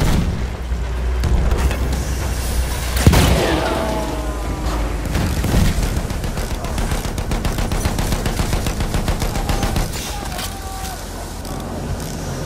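A Battlefield 1 battle with a heavy artillery boom near three seconds and loud, rapid machine gun fire rattling almost continuously around it, mixed with mechanical clatter and distant blasts.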